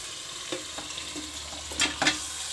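Chicken frying in a pan for Kerala-style chicken curry, giving a constant soft sizzling hiss with scattered light knocks and a couple of brief wet bursts as the pieces are stirred. No voices.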